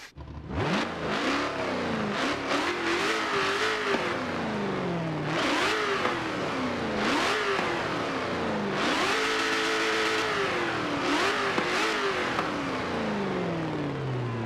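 A 6.2-litre supercharged Hemi V8 in a Dodge SRT Demon fires up and revs hard repeatedly, rising and falling in loud, close bursts with a deep rumbling idle between.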